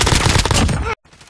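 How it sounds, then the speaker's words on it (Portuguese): Rapid, loud close-range gunfire in Call of Duty, fired in a dense burst for about a second before cutting to near silence. "Estão atirando em mim!"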